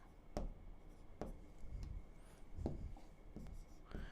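Marker or chalk strokes on a board during a maths lesson on conic sections and parabolas, a few short scratchy bursts spaced irregularly, close and fairly quiet, with no talking.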